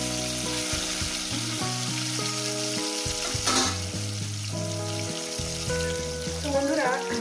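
Pieces of bhangan fish sizzle and fry steadily in hot oil, a continuous loud crackle with occasional stirring and a brief burst of spattering midway.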